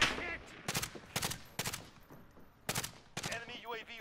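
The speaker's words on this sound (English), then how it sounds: "I'm being shot at from the fire department." Gunfire in Call of Duty: Warzone, with several loud, sharp bursts of shots in quick clusters and brief gaps between them, plus faint game sounds in the background.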